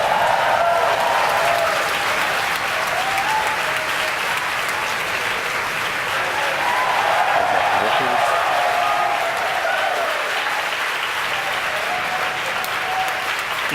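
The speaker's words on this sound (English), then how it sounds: "you can hear it through the cheers of the crowd here at SpaceX headquarters" Loud, steady cheering and applause from a large crowd at SpaceX headquarters right after rocket stage separation, filling the whole stretch with dense broadband noise and occasional swells of whoops.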